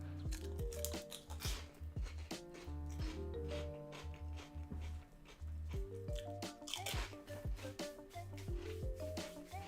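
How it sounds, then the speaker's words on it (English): Someone munches pork rinds close to the mic, with sharp, irregular crunches and bites under steady background music with clear melodic notes. "I'm gonna be crunching, and that might be loud as well"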